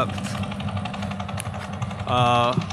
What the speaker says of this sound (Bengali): নৌকা দেখতেছেন, ইঞ্জিন চালিত নৌকা, এই যে এই পাশে আসতেছে